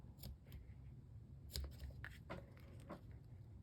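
Several quick, crisp snips of scissors cutting ribbon, scattered irregularly over a few seconds, close and fairly quiet.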